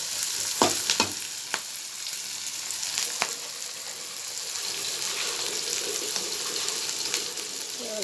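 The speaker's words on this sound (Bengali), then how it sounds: "লাল লাল করে ভেজে নেব" Chopped ginger frying in oil in a pan for Bengali egg curry gives a steady, close sizzle, with a few sharp clinks of a spatula or spoon early on.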